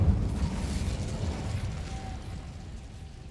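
A fire spell, Incendio, cast in Hogwarts Legacy, bursting as a loud, rumbling blast that gradually fades over a few seconds, with a faint steady tone lingering near the end.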